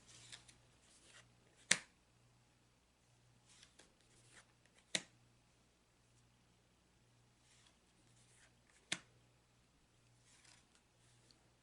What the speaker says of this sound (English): Now fan the cards out.